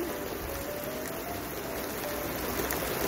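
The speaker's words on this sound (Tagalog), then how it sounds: "malakas nga ang ulan at kumikidlat pa" Heavy rain falls steadily on a campsite in Benidorm, Spain during a night storm with lightning, a dense, even hiss of close rainfall holding at constant loudness throughout.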